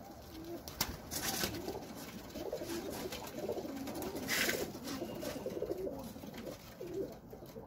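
Sialkoti high-flying pigeons, a golden and batera cross, cooing nearby in repeated low throaty phrases that continue steadily throughout with soft rustling, no talk.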